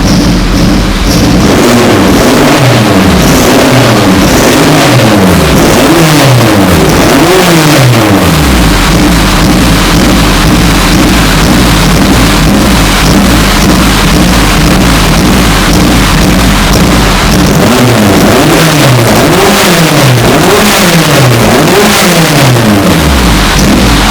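A Honda Civic Wonder racing engine revs hard in repeated rising and falling bursts, loud and close, with a sustained roar in between.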